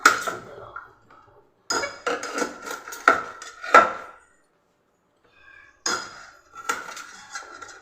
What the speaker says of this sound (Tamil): இந்த சின்ன வெங்காயத்தை அப்படியே ரெண்டாக வெட்டிக்கலாம்.